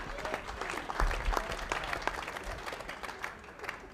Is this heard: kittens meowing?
no